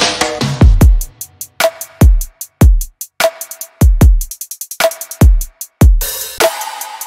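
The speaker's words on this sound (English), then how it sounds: "Finally, I added some drums" Electronic drums for a remix play alone: punchy kick hits on a steady beat with snappy snares and fast ticking hi-hats, loud and close with clean gaps between hits.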